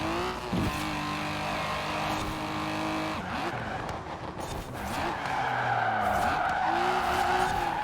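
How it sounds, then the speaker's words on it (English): Car drifting in the Forza Horizon 4 racing game: a loud, continuous engine roar that rises and falls through the gears, with long tire squeals running under it as the car slides through the corners. "Hitting some drifts."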